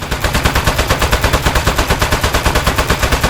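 Rapid, evenly spaced gunfire from the video game Aperture Desk Job, loud and continuous like an automatic weapon, each shot a sharp burst in a steady rattling stream.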